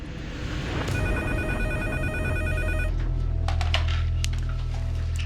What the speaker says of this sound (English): I get a phone call from Edgar